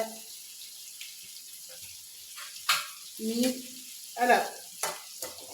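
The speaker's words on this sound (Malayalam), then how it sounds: "കടുക് വറുക്കുന്നതിനകത്തോട്ട് ഒരു ശകലം മുളക് പൊടിയും ചേർക്കും." Mustard seeds fry in oil with chili powder added, giving scattered sharp crackles and pops over a faint sizzle, close by and fairly quiet.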